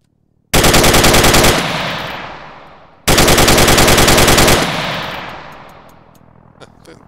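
Two long bursts of automatic gunfire from a modded weapon in the video game Dynamic Bulwarks, each a loud, rapid rattle that trails off into a decaying echo, followed by a few faint clicks.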